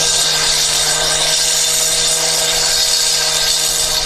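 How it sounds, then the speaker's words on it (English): A power saw cuts through rock at a dinosaur dig site in Wyoming, a loud, steady grinding whine that runs unbroken from start to finish. "we got some sawing going on down there"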